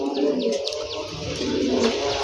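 Racer pigeons coo in a breeding loft, a continuous close murmur of low calls with faint higher chirps scattered across it, no voices on top.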